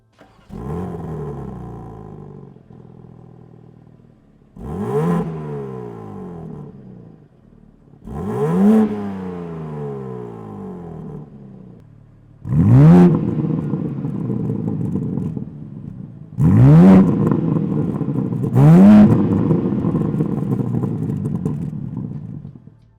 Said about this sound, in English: You can hear the car now in sport mode